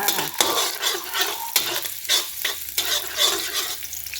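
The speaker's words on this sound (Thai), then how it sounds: "กระเทียมค่ะเดี๋ยวกระเทียมให้พอเหลืองก่อนนะคะ" Garlic sizzles in a hot pan, the first step of stir-fried pork with ridge gourd, while a spatula stirs and scrapes in repeated strokes over a steady close frying hiss.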